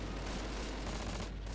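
Machine gun fire in the World War II strategy game Close Combat Last Stand Arnhem, a dense continuous burst of rapid shots sustained at a distant, muffled level.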